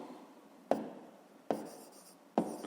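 A pen writing out a math solution on paper, soft scratchy strokes close by, with three sharp tap-like onsets each followed by a trailing scribble.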